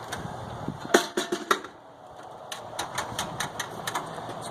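A Kubota WGC6-21 push mower is started: a few sharp clicks and mechanical knocks from the pull start, then the small engine catches and runs at a low, uneven idle nearby.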